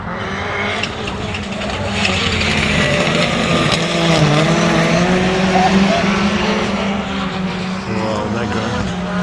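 Historic rallycross cars racing at Lydden Hill, engines revving and howling with shifting pitch and some tire squeal, loud and continuous, with people talking over the racket.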